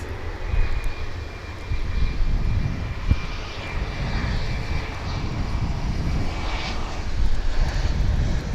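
An airliner at DFW International Airport roars steadily at a moderate distance, its broad engine rumble swelling and easing slightly over several seconds, with no one talking.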